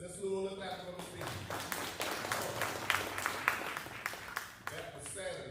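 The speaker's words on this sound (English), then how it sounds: "let's do a little clap for Ms. Bean." A small audience at a city community meeting in Sanford claps for a superintendent, a modest scattered round of individual claps with some voices talking over it.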